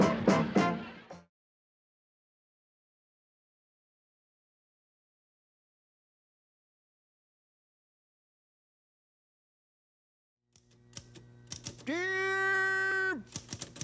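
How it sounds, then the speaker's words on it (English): A typewriter clatters in a quick burst of keystrokes on a children's puppet television show, followed by a long silence and then a sustained tonal sound that glides in pitch. "Dear Phineas, thanks for giving me this typewriter. It sure works good"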